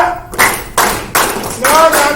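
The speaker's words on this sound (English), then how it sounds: "Clap." Dance class participants in a rumba session clap in unison, four sharp, loud group claps spaced roughly evenly apart, close by.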